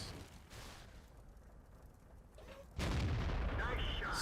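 A tank cannon fires in the World of Tanks video game, a sudden loud booming blast that then rolls on as a sustained heavy rumble, with earlier softer battle noise behind it.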